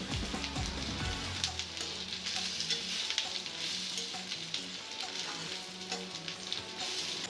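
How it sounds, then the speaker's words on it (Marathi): Coriander seeds and grated coconut sizzle steadily in a hot pan, a continuous crackling fry with occasional stirring scrapes, close and clear without talk. "1 टीस्पून धने घालून परतून घ्या"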